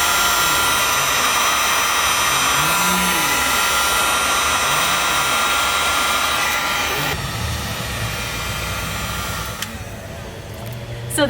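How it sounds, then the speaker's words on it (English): A heat gun blows a steady, loud roaring hiss up close as it melts and textures a styrofoam fake rock, with a voice talking over the first part. "you can hit it with a heat gun and it will cause all those types of texture"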